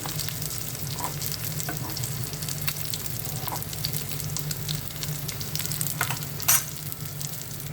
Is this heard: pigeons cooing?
no